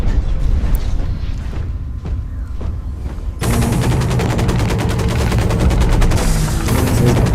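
Rapid automatic gunfire from a mech's weapon in the online shooter Hawken, starting after a few scattered distant shots and then hammering continuously at close range over a constant battle din.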